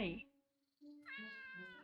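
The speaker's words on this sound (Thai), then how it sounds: "เจ้าแมวเจ้าหมายังไล่กันไม่เสร็จเลยอ่ะ" A cat meows in the video game Lost in Play, two distinct cries with a brief gap between, the second longer and steadier, close and clear with little else around it.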